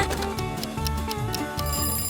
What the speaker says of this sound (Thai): นาฬิกาปลุกมาได้ไงอะ่ะ